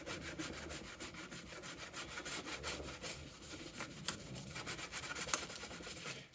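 Wire brush scrubbing stubborn paint and rust off the metal top of a top box, a steady run of rapid, rasping strokes with a few sharper scrapes, close and fairly loud, no talking.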